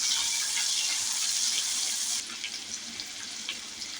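A whole tomato drops into hot oil with pink-browned garlic in a pan, setting off a loud, steady hiss and sizzle that eases slightly after a couple of seconds, with small pops and crackles continuing.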